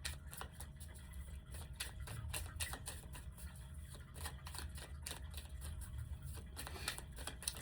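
Tarot cards are shuffled rapidly up close, a dense series of crisp riffling clicks and flutters continuing throughout without talk.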